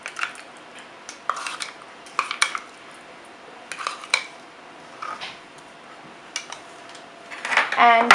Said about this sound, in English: So for this I will take a big mixing bowl and I will add the hot boiled pasta, and I will add the pesto sauce.